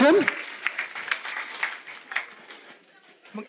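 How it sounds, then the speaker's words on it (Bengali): Applause rises from the audience at a cooking challenge award ceremony, a thin patter of clapping from a modest crowd, with someone speaking over it at the start. "একটা হাততালি প্লিজ"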